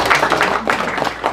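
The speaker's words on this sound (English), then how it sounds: "and give yourself a warm, warm applause." A brief burst of audience clapping at an evening theatre event in a bookstore, several hands patting loosely and unevenly for just over a second, close and fairly loud, with no speech.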